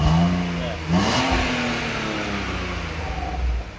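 A BMW E46 engine revs after a catalytic converter install, a close, loud engine note that rises in pitch around one second, then settles into a steady drone.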